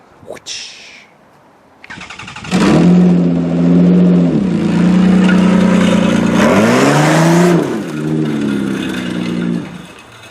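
Car engine revving hard as it is driven onto a trailer, the revs climbing and falling several times, loud and close. A brief sound comes before it starts.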